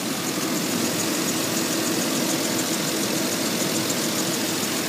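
A 6.2-liter V8 in a 2011 GMC Yukon Denali idles steadily, a continuous close engine rumble with a broad, even hiss and no talking over it.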